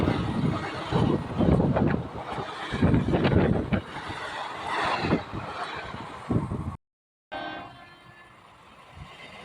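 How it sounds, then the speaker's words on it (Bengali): The Asansol Intercity Express rumbles loudly past on line three of a station, heading toward Naihati, with steady close rolling noise and a brief dropout near the end. "তিন নম্বর লাইন দিয়ে বেরিয়ে যাচ্ছে আসানসোল ইন্টারসিটি এক্সপ্রেস"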